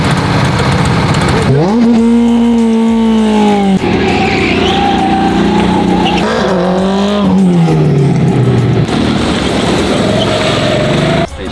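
Go-kart engines racing on a kart track in Albania, loud buzzing engines rising and falling in pitch as the karts accelerate and brake close by, with tire noise.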